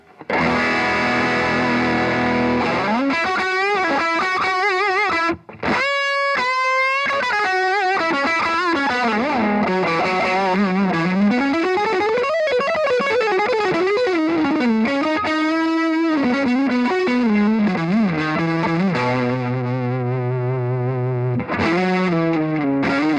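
A crunchy, overdriven electric guitar through a Roland Cube 80 tweed amp model plays sustained notes and bending lead lines, loud and close, with a brief pause partway through.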